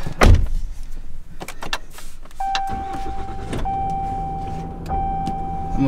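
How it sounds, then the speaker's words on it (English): A car inside drives up onto a leveling ramp, steady engine and tire rumble with a few knocks and clunks, then a sustained tone and an electric window motor running partway through, fairly close with no talking. "we have to drive up on this ramp"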